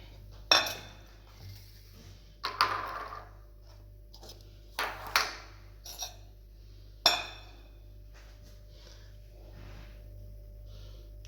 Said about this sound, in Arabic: غادي نجيب واحد الكاسرونه